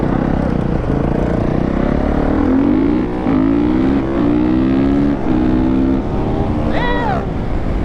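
Dirt bikes race off together with loud revving engines close by, rising and falling in pitch through repeated gear changes. Riders talk and shout over the engine noise.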